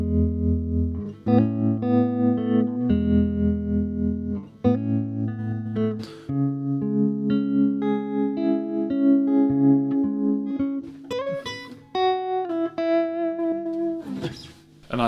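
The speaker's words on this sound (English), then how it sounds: "And I think that's a really nice sounding tremolo." Electric guitar played through a Laney K35 Twin Reverb amp with tremolo at half depth and fast speed: melodic chords and single notes with a gentle pulsing wobble in volume, close and full, ringing over about fifteen seconds.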